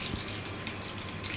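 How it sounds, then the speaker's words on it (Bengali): Water poured over potted plants makes a short, steady gushing splash, close and moderately quiet, with no voices. "আর চলো তাড়াতাড়ি করে গাছে একটুখানি জল দিয়ে দিই।"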